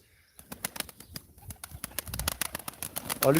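Pigeons at a live pigeon auction flap and shuffle close by, a run of sharp wing claps and scuffs that grows busier, with soft coos mixed in and no talk.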